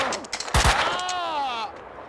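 Gunfire in the video game Max Payne 2: a burst of two or three close, loud shots around the middle, followed by ringing, slowly falling tonal echoes that fade out.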